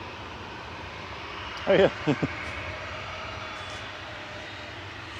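Boeing 737-800 jet at Manchester Airport, its engines giving a steady broadband roar in the background while a voice speaks briefly near the middle.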